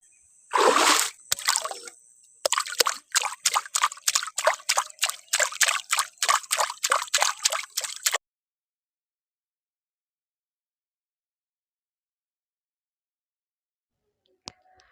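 Cartoon water splashing as a man bathes, a burst of splashing followed by a rapid rhythmic series of pouring splashes that stop abruptly, then near silence with one faint click.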